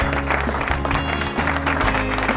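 Applause rises from the audience at a 2022 event as a doctor is welcomed onto the stage, a steady broadband patter of clapping that continues throughout with some low background hum.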